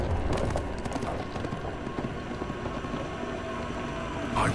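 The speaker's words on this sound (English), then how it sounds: "A horse!" A horse galloping in the video game For Honor, a steady rumbling drum of hooves under dense battle noise, loud and continuous throughout.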